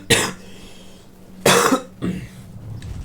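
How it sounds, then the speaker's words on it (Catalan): A man coughs sharply several times, with loud bursts at the start, around the middle and just after, separated by brief quiet gaps, close to the microphone during a live stream. "He de tossir."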